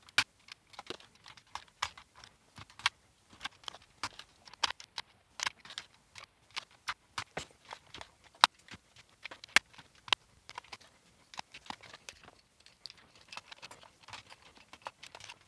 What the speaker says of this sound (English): Keyboard reassembly time!